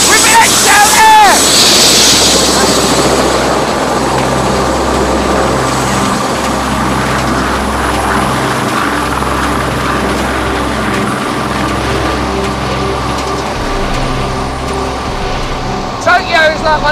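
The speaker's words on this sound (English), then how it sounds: "One of the best ways to see Tokyo City is by helicopter at night." Steady, loud rotor and engine drone of a helicopter flying over Tokyo at night, continuous throughout with a low throbbing hum beneath.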